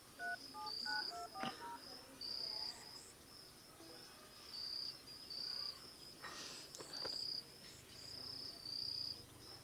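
Phone keypad dialing tones sound on a Samsung Galaxy S23 Ultra as a call is placed from another phone, a quick run of short beeps early on, followed by steady high ringback-style tones repeating over a chirping, insect-like background.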